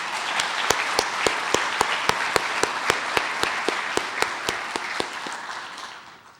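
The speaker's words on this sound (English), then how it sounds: "please give them a round of applause" A civic audience at a city's State of the City address breaks into a round of applause. Many hands clap in a dense, steady wash that holds for several seconds and then fades away.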